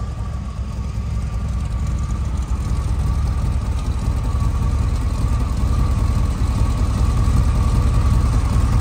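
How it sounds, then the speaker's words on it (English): A classic car engine fitted with a performance cam idles steadily, a close, loud low rumble with a lumpy pulsing throb and no voices. "It's got a real good sound because it's been built with a cam"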